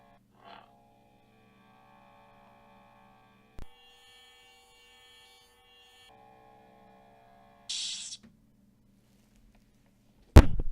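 A faint, steady electronic hum from a sound preview in the S.T.R.E.A.M. v1.0 sound software runs through the passage, with short loud clash-like bursts cutting in near the end.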